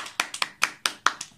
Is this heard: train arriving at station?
no